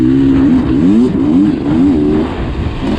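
Beta Xtrainer dirt bike engine revving hard on fast singletrack over whoops, a loud, close two-stroke-style drone that rises and falls through quick throttle blips.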